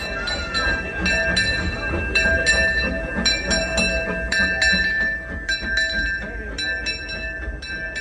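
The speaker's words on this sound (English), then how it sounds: "jumping on the train to ride around the park" The Disneyland Railroad train rumbles along with a bell ringing in repeated bursts over the rolling noise, and faint voices in the background.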